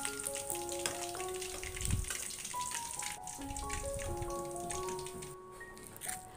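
Steady sizzling of chicken frying in hot oil, continuous and close, with faint tonal sounds drifting in the background.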